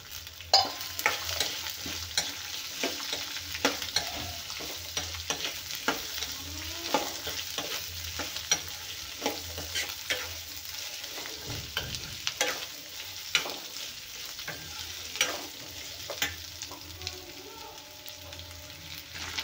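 Three large finely chopped onions frying in a pan make a constant crackling sizzle, with frequent stirring scrapes and taps throughout, close and fairly quiet, without speech.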